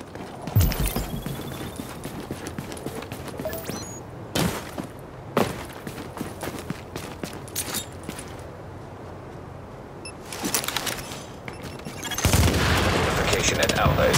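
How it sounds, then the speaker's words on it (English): Gunfire striking a fortification in the video game Nomad, with scattered sharp shots and bursts spread through the stretch, a heavier barrage rising near the end over steady game ambience. "Fortification at Alpha is taking enemy fire."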